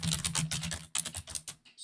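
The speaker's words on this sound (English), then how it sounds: "excuse the extremely loud typing" Loud, rapid typing on a computer keyboard, dense clattering keystrokes in quick bursts with a brief pause, close and dry, no voices.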